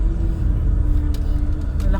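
A large vehicle rolls past in a zoo parking lot, a heavy steady low engine rumble close by with a faint tonal hum, while a person speaks briefly over it.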